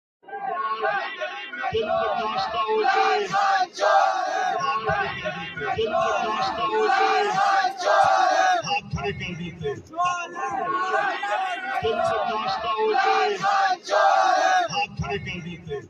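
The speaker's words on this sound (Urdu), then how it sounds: "چور چور کے نعرے لگ رہے ہیں عمران خان کے خلاف" A large political crowd chants slogans against Imran Khan at a speech, loud rhythmic shouting in repeated waves with babble between them.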